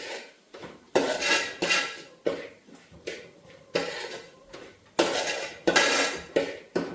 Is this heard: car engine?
no